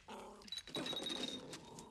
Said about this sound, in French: Sarah, fais sortir le chien de cette